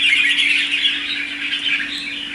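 A caged songbird, a red-whiskered bulbul, sings a close, loud, continuous run of bright chirping notes, alone with a faint steady hum beneath.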